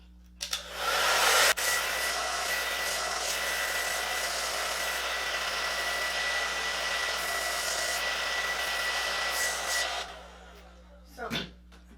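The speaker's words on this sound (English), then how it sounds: "I have to blow dry this a little" Hair dryer blowing on a wig, a loud, steady rushing whir that switches on abruptly, runs unbroken for about nine seconds, then cuts off, followed by a short faint clatter.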